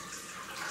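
Hot water is poured from a saucepan into a salad bowl while making homemade laundry detergent, a steady close splashing pour with no pauses.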